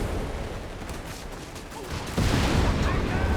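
Gunfire and bazooka fire in the video game Company of Heroes 3, with a rumbling barrage of shots and booms that swells louder partway through, heard under a steady commentator voice.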